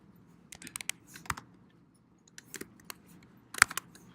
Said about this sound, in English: you're going to get very good at typing that very fast